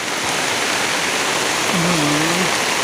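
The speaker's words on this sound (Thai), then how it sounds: "น้ำตกครับ ดูครับหน้าฝน ฝนตกพอดีครับ" Steady broadband roar of a waterfall in the rainy season with rain falling, continuous and loud throughout, with a short faint tonal call or voice near the end.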